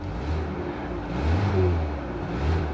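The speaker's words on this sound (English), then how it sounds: "let's go ahead and hear this 2-liter engine." The 2.0-liter engine of a 2024 Ford Escape Platinum AWD idles quietly with a low, steady hum and slight swells, heard from nearby with nothing else over it.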